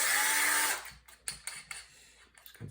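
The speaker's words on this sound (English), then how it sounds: "may be able to drill this one on camera" A power drill boring a hole for USB-powered Christmas tree lights, one loud whirring burst up front that stops, followed by faint clicks and handling noises.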